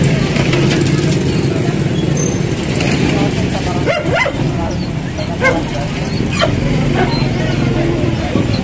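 Dog on a city sidewalk barking and yipping in short bursts amid busy street traffic and crowd noise, with people talking nearby during a clearing operation.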